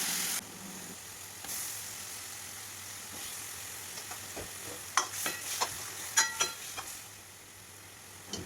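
Cumin and mustard seed tempering with curry leaves sizzling in hot oil in a pan for an eggplant and potato dish, a faint steady hiss broken by a cluster of sharp crackles and pops midway.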